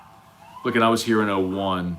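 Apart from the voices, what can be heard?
emergency vehicle sirens outside a stadium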